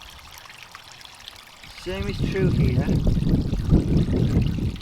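Water from a newly built garden pond waterfall pours and trickles down between framing rocks and foam, a steady splashing flow that swells after the first two seconds, with someone talking over it.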